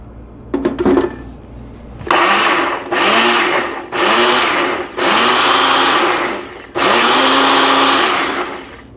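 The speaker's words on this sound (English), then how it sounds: "I'm going to pulverize it so I get even more of the ingredients out of the strawberries" A loud blender whirs in several bursts, starting and stopping about five times, its motor pulverizing strawberries with a rough, churning roar.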